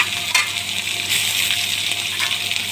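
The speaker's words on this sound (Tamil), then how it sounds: "வெங்காயம் பொன்னிறமாக வறுக்க வேண்டும்." Onions fry in a pan with green and dried chillies for a South Indian drumstick-leaf ragi adai. A steady, close, bright sizzle carries on throughout with a brief faint clink and no voices.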